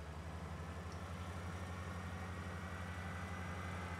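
Harvester engine idling in the Farming Simulator 20 video game, a steady low mechanical drone with a regular pulsing rumble, faint and continuous, with no talk over it.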